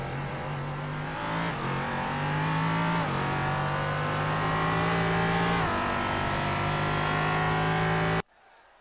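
Race cars in the iRacing sim on the Charlotte oval drone loudly and steadily at high revs, with pitch climbing and dipping through shifts, before the sound cuts out sharply at the end.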